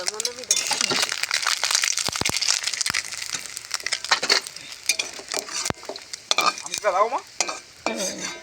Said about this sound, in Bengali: ভাজা ফেরাই হয়ে এসেছে এবার নামানো হয়ে যাবে